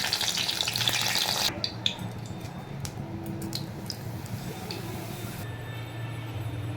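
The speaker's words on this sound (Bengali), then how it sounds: "এই কটা ভেজে নিয়েছি দেখো, আর ছোটো ছোটো করে ভেজেছি বলে বেশ ভালো হয়েছে অল্প তেলে।" Small pieces of papad fry in a little oil, giving a steady soft sizzle with light crackles and utensil clicks, louder and hissier at the start and quieter later.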